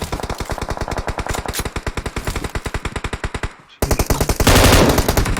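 Rapid automatic gunfire in the mobile battle royale game PUBG Mobile, a fast regular burst of loud shots that breaks off briefly, then resumes heavier and denser.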